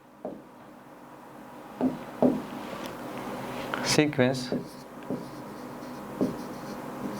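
A marker or chalk scrapes and taps in short, separate strokes while a maths lesson note is written on a board, with a teacher's voice talking over the writing.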